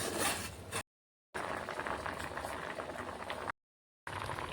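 Potatoes boiling in salted water in a home kitchen, a continuous soft bubbling and rolling of liquid, fairly quiet, cut off twice by brief silent gaps.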